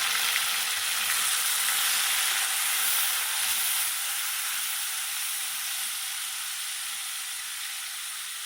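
Tomatoes for an aloo matar keema curry fry in a hot pan with a steady, loud sizzle that fades slightly over several seconds, with no talking.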